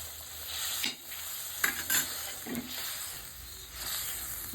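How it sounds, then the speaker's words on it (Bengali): Water poured into sizzling tomato masala in a pan for Bengali-style katla fish kalia, giving a steady hiss and fry with a few louder bursts of bubbling and stirring. "এবার আমি জল দিয়ে দিচ্ছি, দিয়ে মাছ দেবো।"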